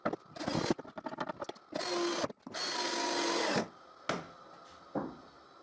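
A power drill screws together the halves of a homemade drill-powered disc sander with 26 mm bearings, in a string of short whirring bursts followed by several longer steady runs, close and loud in a quiet room.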